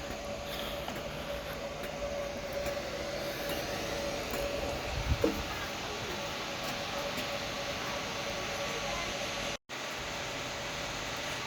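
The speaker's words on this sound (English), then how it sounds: "So I'm on the train now" A train runs toward Reading Green Park, heard from inside as a steady rumbling interior drone with a faint tonal hum, a brief bump midway and a short dropout near the end.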